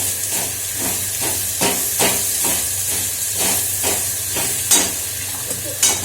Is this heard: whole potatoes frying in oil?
yes